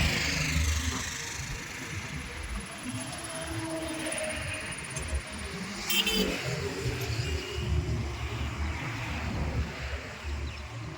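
A manual car's engine rumbles steadily and low while reversing into a garage, a continuous near drone with slight swells and no clear voices over it.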